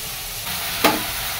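Boiled elephant foot yam and potato dropped into a pan of hot oil, a brief, loud burst of sizzle rising over a steady frying hiss.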